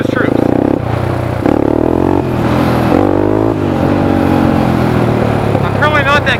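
A Honda 300EX ATV engine revs hard on a wet road, loud and close, surging up and down through several rises in pitch, with a short voice near the end.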